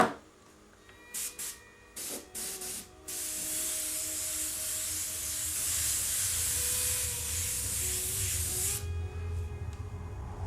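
Kalani airbrush loaded with FW ink spraying a light coat of green over a paper background: a few short hissing bursts, then a steady loud spray hiss for about six seconds that cuts off abruptly.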